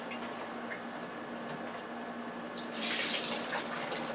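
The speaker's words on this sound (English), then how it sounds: "I'm just going to pour the water off." Water poured off pre-cut carrots and potatoes into a kitchen sink, a faint, thin trickle that swells into a brighter, louder splashing rush near the end, with no voices.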